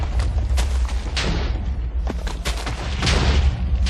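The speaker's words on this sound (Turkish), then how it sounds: "kendimi patlattım" Explosions from TNT in Minecraft minigames, the player blowing himself up: a loud run of booming blasts and crackling bursts, close and sustained, with no talk over them.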